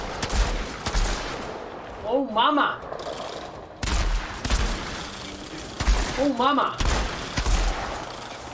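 Weapon fire from the Outriders video game in a ruined canyon area, with repeated bursts of shots at intervals, sounding loud and close, while someone shouts excitedly over the gunfire.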